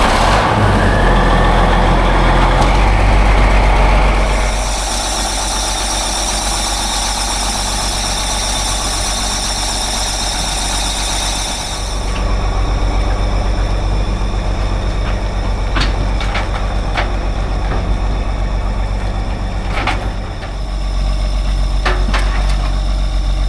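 Old tractor engines running at a rural stop at sunset, a loud steady idling rumble with a high whining squeal through the middle and a few sharp clicks later, with no talking.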